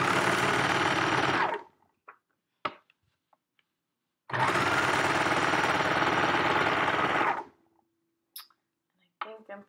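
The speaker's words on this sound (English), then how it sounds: "And I'm going to sew this with my serger." A serger runs through fabric in two sustained bursts of about two seconds and three seconds, its fast mechanical whir loud and close, with a brief pause and scattered small clicks between runs and afterward.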